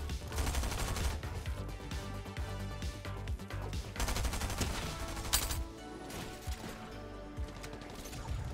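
Gunfire in Fortnite Battle Royale: dense, loud, overlapping bursts and shots, with heavy crashes running through the whole stretch and a sharp peak near the middle.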